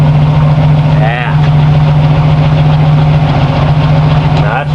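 A 1989 Chevrolet Celebrity engine idles close up through an exhaust with a single muffler, a loud steady low hum with a faint voice passing over it.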